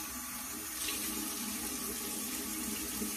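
A bathroom sink tap runs cool water in a steady, close rush while a face is rinsed, the flow constant and even with no voices over it.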